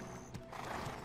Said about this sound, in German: Das sind überall nur Pferde.